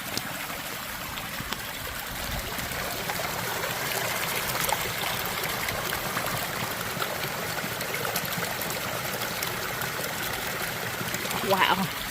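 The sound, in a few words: trail water source trickling while collecting water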